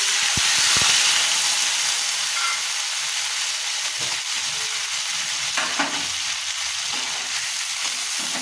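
Asafoetida dissolved in a little water hits a hot pan in a Bengali kitchen, giving a loud, steady sizzle and hiss that starts strong, then settles into continuous frying crackle with a few stirring knocks, no voices.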